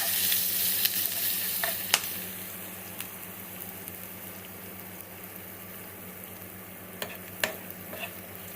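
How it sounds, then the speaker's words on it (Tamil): Black pepper and cumin seeds fry in hot oil for ven pongal with a steady, close sizzle, broken by a handful of sharp pops and crackles spread through the sound. "மிளகு ஜீரகம் ரொம்ப பொரிஞ்சதுக்கப்புறம் நம்ம கருவேப்பிலை இஞ்சி எல்லாம் போட்டோம்னா"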